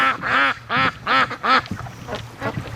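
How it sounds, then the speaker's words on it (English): Free-range ducks quack close by in a run of four loud, evenly spaced calls, followed by a few fainter quacks trailing off, with no talk over them. "Yeah, we got duckies all over. Some down here. Oh, little duckies."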